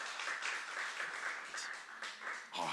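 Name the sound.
congregation applause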